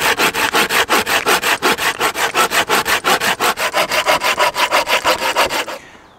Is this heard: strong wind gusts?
no